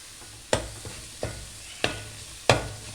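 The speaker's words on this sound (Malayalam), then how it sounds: "ഇഞ്ചി വെളുത്തുള്ളി പേസ്റ്റ് നമുക്കതിലേക്ക് ഇട്ട് കൊടുക്കാം" Ginger garlic paste sizzles in a pan for chicken curry while a spoon scrapes through it four times at a steady pace, each stroke a sharp close scrape over a constant low frying hiss, with no talking.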